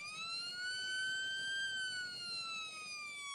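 A single ambulance siren wails as one long tone that rises and then slowly falls, clear but fairly quiet over a faint background on a road where drivers face an obstacle course.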